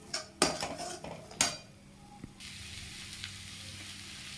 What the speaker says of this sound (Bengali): এই দিয়ে ভালো করে মশলাটা একটু ভেজে নেব।